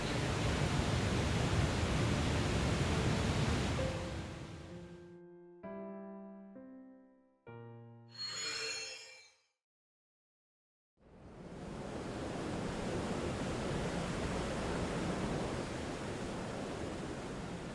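Waterfall water roars in the Fate/Grand Order game as a dense steady rush. It breaks off for a short run of chiming musical tones and a brief silence, then the rushing returns and holds.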